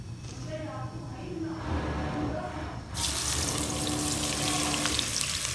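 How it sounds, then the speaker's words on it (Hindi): Onions drop into a pan of frying okra, and a hissing sizzle swells sharply partway through and then holds steady, with a voice talking over the cooking noise. "फ्राई करने लगे प्याज।"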